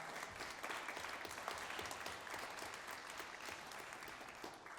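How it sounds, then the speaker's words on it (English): A jazz concert audience gives a steady round of applause, dense clapping heard faintly from some distance with no voices over it. "let's give them a round of applause"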